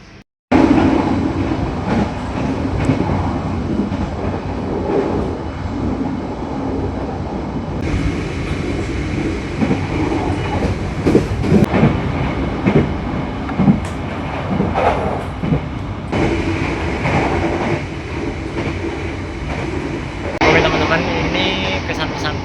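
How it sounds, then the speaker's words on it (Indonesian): An economy-class Pasundan passenger train rides on the rails, a loud continuous rumble and rattle of carriage and wheels heard from inside, with clacks and shifting noise and some voices in the background. "Jadi pertama kalinya aku naik kereta api Pasundan"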